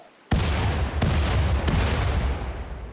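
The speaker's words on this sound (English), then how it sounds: "we are gonna blow them up with grenades" Grenade blasts on a corpse pile in the Rimworld video game: three sharp booming detonations in quick succession, the first bursting out of near silence, each followed by a rumbling decay.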